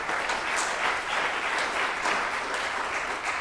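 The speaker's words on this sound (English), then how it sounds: "Let's give them a round of applause." A church congregation at First Parish applauds its membership committee during Sunday worship, steady even clapping from many hands filling the whole stretch.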